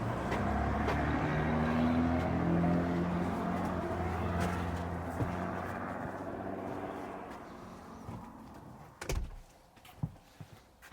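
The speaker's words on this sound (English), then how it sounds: "So we got 6 lanes of traffic 10 feet away from this property" Steady roar of heavy six-lane highway traffic rushes past about ten feet away, then fades as a door shuts and the surroundings turn quieter with a few knocks.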